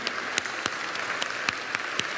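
A church congregation applauds with steady, close hand clapping, with sharp individual claps standing out from the broad wash of sound.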